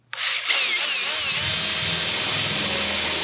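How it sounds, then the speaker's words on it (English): A power drill bores a pilot hole through a Sprinter van's metal body panel, starting with a sharp onset and then holding a loud, steady whine for about three seconds with no talking. "We're going to start off with drilling a hole first to start our air saw."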